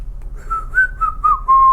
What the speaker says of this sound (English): Here comes the whistling.